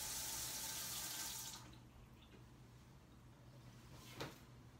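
Water running from a leak or tap, a loud steady rush that cuts off abruptly after about a second and a half, leaving a quieter room with a brief knock later.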